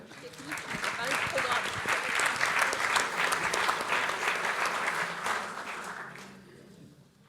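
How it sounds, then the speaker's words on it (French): An audience applauds the round-table speakers at a cement-industry conference, clapping swelling into a full sustained roll, then tapering off as murmured voices linger underneath. "je vais vous demander d'applaudir nos intervenants"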